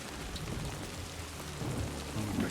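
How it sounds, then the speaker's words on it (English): Heavy rain pours steadily in a storm in the video game Death Stranding 2, with low rumbling thunder swelling beneath it. It is a dense, continuous wash with no voices. "The storm sounds a lot more menacing than like the clouds are making it seem like it is."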